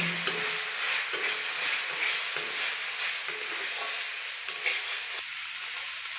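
Chicken Maggi noodles with masala and Kashmiri chilli powder stirred in a pan, a steady close sizzle broken by regular scraping strokes of the spoon, with no talking.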